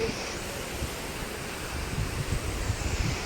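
A waterfall along the Kedarnath trek pours in steady, dense roaring noise during light drizzle, with a faint low rumble underneath and no voices.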